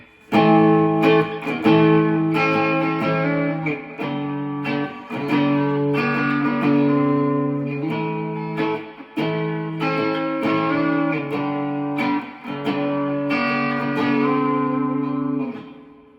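An electric guitar on its bridge pickup, tone and volume fully up, plays a run of clear sustained chords and single notes at steady volume with brief pauses between phrases, nothing else audible.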